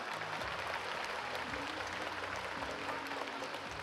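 Audience clapping at a live Japanese fan festival event, a broad continuous patter that fills the clip while music plays underneath.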